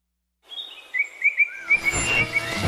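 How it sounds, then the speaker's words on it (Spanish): Small birds sing repeated clear chirps and trills in the early morning at a coffee farm, starting out of silence and joined by a fuller background chorus. "Desde las 5 comienzan los pajaritos a cantar, los gallos"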